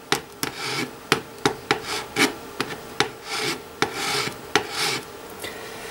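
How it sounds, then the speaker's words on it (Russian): A hand file is scraped across protrusions on a plastic case in steady repeated strokes, about a dozen rasping passes with a short attack at each stroke, close and fairly loud, with no talking. "Корпус имеет выступы, счесываю их с помощью напильника."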